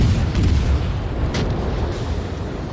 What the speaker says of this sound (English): we're gonna send in all 4 shells